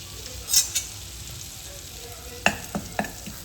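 Flour roasting in melted butter for a creamy broccoli soup, with a steady low sizzle and a few sharp spoon scrapes and taps against the pan near the end.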